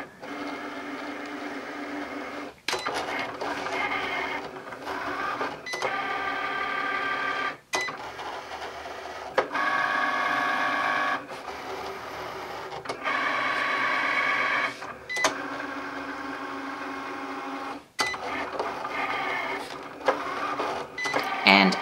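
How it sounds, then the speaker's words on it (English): A Cricut Explore cutting machine cuts a sheet of vellum, its motor buzzing and whirring in repeated passes broken by abrupt clicks and brief pauses, close and steady with no talking. "And here we go, it's gonna cut the vellum."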